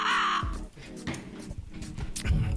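A crow caws loudly and close once, followed by rustling and a few brief sounds and a second harsher call near the end.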